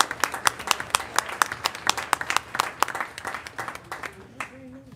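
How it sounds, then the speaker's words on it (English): A school board meeting audience gives a round of applause for a state-tournament-winning team, with close, crisp, fairly sparse claps at an uneven rhythm and a voice coming in as the clapping thins near the end. "So let's give them a big round of applause"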